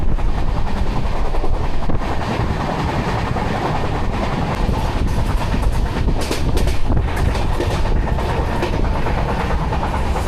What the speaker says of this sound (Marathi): फायनली आपल्याला ट्रेन मिळालेली आहे आणि आपला प्रवास चालू झालेला आहे